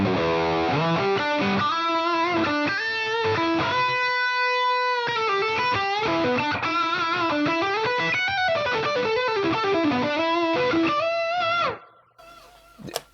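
Distorted electric guitar lead through a Fractal modeler's tri-axis lead preset, sustained singing notes and bends with heavy saturation, played solo for about twelve seconds before stopping.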